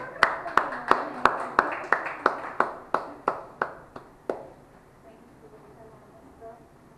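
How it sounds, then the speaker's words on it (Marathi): An audience claps together in a steady, even rhythm, about thirteen sharp claps at a moderate pace that then stop, leaving a quiet, faintly murmuring room. "मीनाताईंसाठी खूप टाळ्या करूया आपण."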